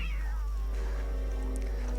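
A cat meows in the video game Don't Starve Together, a drawn-out caterwauling call over a constant low game hum.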